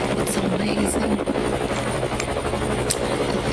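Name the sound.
helicopter flying overhead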